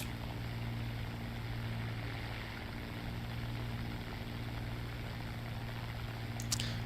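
A Spitfire's propeller engine in a video game, a British aircraft climbing into a fight: a steady, droning engine hum holds evenly throughout at moderate level, with no talk.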